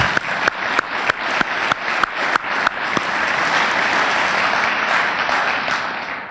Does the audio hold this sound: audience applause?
yes